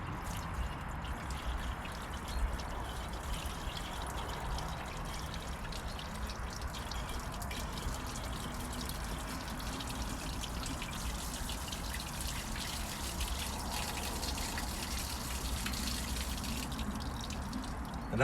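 Water poured by hand into the cooling system of a 1964 Vauxhall HA Viva that sat for 19 years makes a continuous soft trickle and splash, steady and fairly quiet throughout, with no talking.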